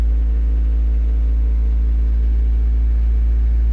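Car engine running steadily with a deep, continuous low rumble while held at raised revs to warm up a cold sensor; close and loud with no talking.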